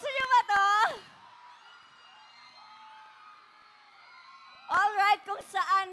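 A large crowd screaming and cheering at a live show, shrill high voices bursting loudly at the start and again near the end with a lower sustained roar between.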